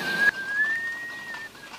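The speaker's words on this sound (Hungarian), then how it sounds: "ne fütyülj!" A person whistles one steady, sustained high tone, close and clear, with a slight pitch lift near the start. No other sounds accompany it.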